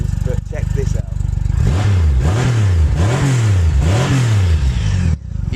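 A Triumph Rocket 3 Roadster motorcycle on standard exhaust cans fires up and then revs repeatedly in loud, close bursts, its deep engine note rising and falling several times before settling back to idle.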